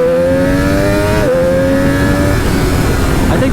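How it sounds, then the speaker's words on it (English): A Triumph Daytona 765 Moto2 motorcycle accelerates at wide open throttle, its engine note climbing loud and close. There is a brief dip at a gear shift, then the pitch keeps rising over a steady wind roar. "That was wide open throttle from like 2nd gear, 3rd gear"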